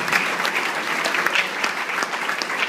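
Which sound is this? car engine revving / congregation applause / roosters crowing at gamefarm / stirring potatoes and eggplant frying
congregation applause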